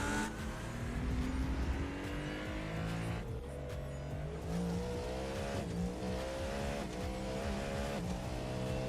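A race car at Sebring, heard from onboard, drones steadily with a loud, continuous engine roar whose pitch rises and falls through gear changes and corners.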